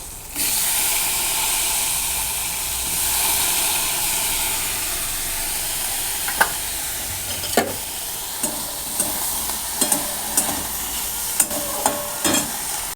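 Steady sizzling of okra frying in a pan, with a few scraping clicks of a utensil stirring toward the end; no talking.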